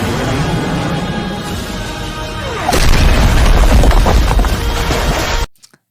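A hypersonic missile explosion erupts as a loud, sustained rumbling boom that swells suddenly out of steady background noise, roars on for several seconds and then cuts off abruptly.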